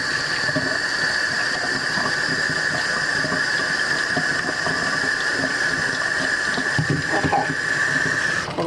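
A kitchen tap runs over peas as they are rinsed, giving a continuous, even hiss of flowing water that does not change across the whole stretch, with no talking.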